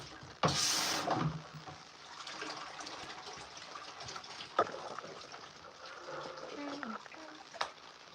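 A hose sprays water while a horse's feet are washed, a steady hissing gush with a sharp burst near the start and varying flow throughout, close by.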